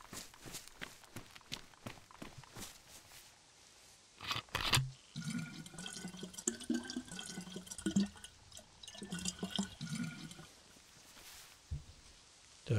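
Footsteps patter briefly, then water splashes and trickles steadily as a container is filled at a water source in the survival game DayZ, close and moderately quiet.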